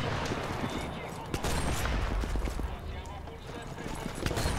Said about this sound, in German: Das sind die Partisanen, glaube ich, die hier schießen.